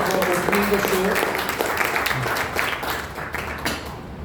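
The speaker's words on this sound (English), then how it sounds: "Can we have a big round of applause for Sandhya ji for opening the show?" An audience at a Hindi film music show applauds for the opening performer, a short burst of crowd clapping mixed with murmuring voices.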